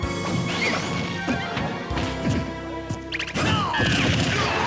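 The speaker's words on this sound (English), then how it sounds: "That was a very bad up smash." Up smash attack in Super Smash Bros. 4 during a Captain Falcon versus Luigi grand finals match, a few sharp crashing hits with whooshes and game effects in quick succession.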